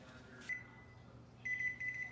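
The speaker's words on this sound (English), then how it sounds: "Okay, so the timer is up." A kitchen timer goes off while rustic Italian bread bakes, sounding two steady high electronic beeping bursts, a short one and then a longer pulsing one, over quiet room hum with no speech.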